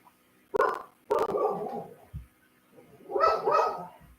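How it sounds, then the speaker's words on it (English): A dog barks indoors, two sharp bursts followed by a later pair of barks, fairly close and clear, with quiet pauses between. "Wish my doggy would stop barking"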